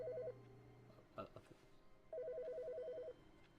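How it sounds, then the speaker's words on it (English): A telephone in the video game The Stanley Parable gives two bursts of rapid trilling rings, one short and one longer, with voices speaking between and under them. "Oh, phone call."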